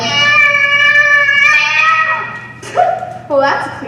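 A cat in a video game gives a long, loud, drawn-out meow, then a couple of shorter, sharper meows close by.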